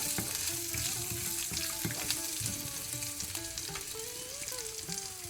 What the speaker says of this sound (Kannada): ಶುಂಠಿ, ಬೇವಿನ ಸೊಪ್ಪು, ಸ್ವಲ್ಪ ತಿರುಗಿಸುವುದು